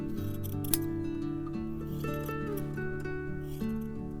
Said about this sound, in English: take some scissors and just snip around your gnome's beard.